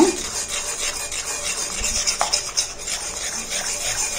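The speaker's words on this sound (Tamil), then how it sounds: "கட்டிலாம் இல்லாமல் நல்லா மிக்ஸ் பண்ணிக்கோங்க" A turmeric hair dye mixture is stirred in a pan over a medium flame, making a continuous close scraping and swishing sound with a few louder knocks of the utensil against the pan.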